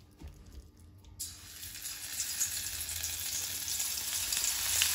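Beetroot chili powder is dry-roasted in a pan, giving a steady hiss and sizzle. The sound swells after a quiet start and stays close and continuous to the end.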